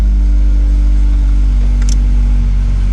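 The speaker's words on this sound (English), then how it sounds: "because I mean it is a cold start, so it's gonna rev high" A car engine idles high on a cold start with a loud, steady, deep drone and a continuous hum that does not change, plus a brief click partway through.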